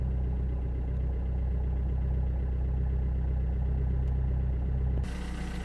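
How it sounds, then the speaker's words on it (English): A Vauxhall Corsa D 1.3 CDTi diesel engine with an injector fault code P0204 idles steadily with an even low rumble and faint clatter, close and continuous, then shifts abruptly near the end. "And the engine is running actually quite smooth compared with when it was dropped here"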